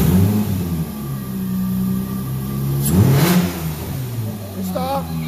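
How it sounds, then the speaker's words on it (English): A 2000 Nissan Maxima with an intermittent crank/no-start fault cranks and catches, its engine holding a steady mid-pitched running drone with a brief surge near the middle, heard up close. "go ahead and crank it and start it"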